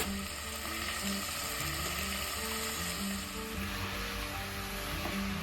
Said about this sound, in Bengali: সব সবজিগুলো দিয়ে একটু ভাজা ভাজা করে নিচ্ছি